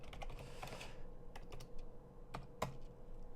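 Keystrokes on a computer keyboard while a forum reply is typed, a quiet run of scattered clicks with a few sharper isolated taps, close by and without speech.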